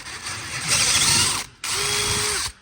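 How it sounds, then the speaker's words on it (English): A tap being run through a grub screw thread on a front suspension part for a 1957 oval-window Volkswagen Beetle, giving two close, loud grinding ratchet-like bursts separated by a short pause. "Another thing I always do on these is tap out the grub screw."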